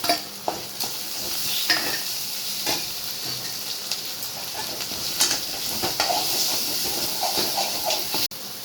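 Onion, curry leaves, ginger-garlic paste and tomato frying in a pan while being stirred, a steady close sizzle broken by sharp clinks and scrapes of the spoon, with no talking.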